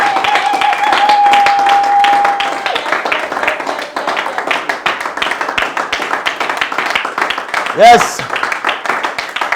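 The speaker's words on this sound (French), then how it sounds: "Est-ce qu'on peut acclamer très fort le Seigneur?" A church congregation claps loudly and rhythmically in praise of the Lord, a dense sustained applause with cheering, while a voice speaks briefly over it.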